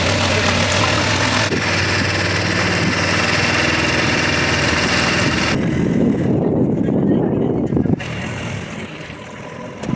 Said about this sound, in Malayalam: സുസുക്കിയുടെ എഞ്ചിൻ ഘടിപ്പിച്ചിട്ടുള്ള സ്പീഡ് ബോട്ടിലൂടെ